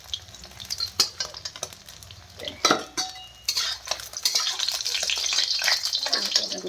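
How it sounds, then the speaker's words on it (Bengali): Fish heads fry in a pan of hot oil for muri ghonto, sizzling steadily while a utensil clanks and scrapes a few times, the frying growing louder and denser toward the end. "আর এই মাছগুলো ভেজে নিই"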